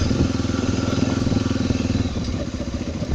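A Honda XR 250 Tornado single-cylinder engine thumps along at a steady rhythm while being ridden, close and continuous with a faint clatter underneath and no speech.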